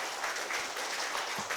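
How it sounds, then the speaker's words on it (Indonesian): Steady applause from a crowd at a political party event, dense and even throughout, with no voices standing out. "Tepuk tangan untuk semuanya."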